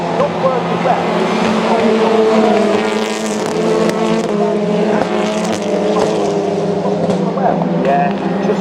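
A TCR touring race car works through Lodge Corner at Oulton Park during a TCR UK race, its engine note droning steadily and close, rising and falling through the bend while commentators talk over it throughout.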